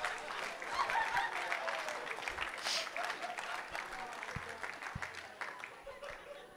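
Wedding guests applauding the bride Mary during a best man speech, a steady mid-level wash of clapping from a crowd, with voices and laughter mixed in.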